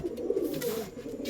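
Andhra pigeons coo close by in a low, warbling, drawn-out call that fills the moment on its own, with no voices over it.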